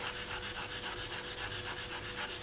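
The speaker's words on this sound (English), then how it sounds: "just continue sanding until you are happy that you have removed the paint" Sandpaper rubbing back and forth on a polymer clay earring, fine grit, in a steady quick rhythm of close, even strokes with no talking.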